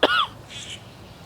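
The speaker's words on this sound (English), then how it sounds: "I got distracted with my cough" A single sharp cough bursts out at the start, then fades into quiet room tone.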